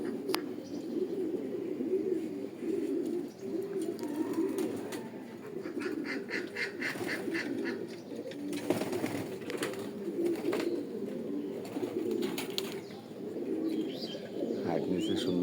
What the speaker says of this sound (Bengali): কবুতরগুলো বহুত হাইট নিচ্ছে আজকে বাচ্চাগুলো।